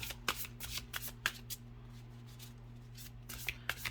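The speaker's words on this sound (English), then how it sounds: "Let me get through one shuffle." Soft, repeated riffles and slides of a new oracle deck, The Medicine Woman Oracle, being shuffled close by, with brief sharper snaps at intervals over a low steady hum.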